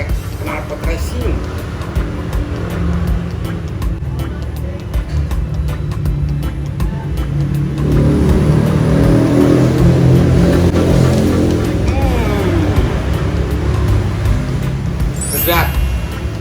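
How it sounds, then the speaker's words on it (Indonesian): Traffic on a main road beside a roadside noodle stall, with motorbikes fitted with racing exhausts droning and revving past, a louder pass midway, under ongoing talk. "Motor-motor banyak yang pakai knalpot racing."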